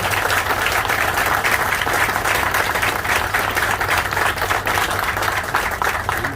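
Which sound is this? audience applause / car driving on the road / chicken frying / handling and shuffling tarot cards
audience applause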